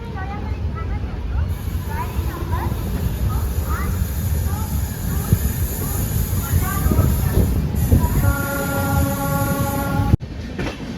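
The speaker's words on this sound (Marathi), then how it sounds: "आपली ट्रेन या ठिकाणी खुर्दा रोड रेल्वे स्टेशनहून निघालेली आहे" A train pulls out of Khurda Road railway station with a steady low rumble and rattle of the carriages. Voices murmur in the background, and a brief tonal sound rises near the end.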